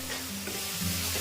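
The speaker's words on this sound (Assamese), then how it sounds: "দি পেলাই ধুনীয়াকৈ ভাজি ল'লোঁ।" Tomato paste sizzles with salt in a hot pan, a close, loud, continuous frying hiss with the scrape of stirring and a low steady hum under it.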